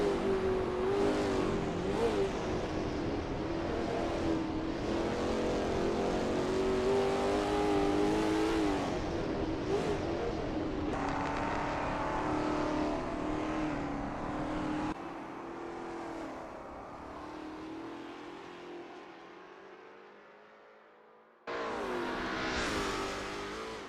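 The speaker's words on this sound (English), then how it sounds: "That ASRL T70 MkII Spyder looks good driving through East Straight." Lola T70 MkII Spyder race car in a racing sim at Bridgehampton, its engine droning and revving through gear changes along a straight, loud and steady before dropping away briefly and returning.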